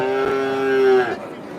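A single loud, drawn-out cow moo nearby at a cattle market, lasting about a second, over a faint background murmur.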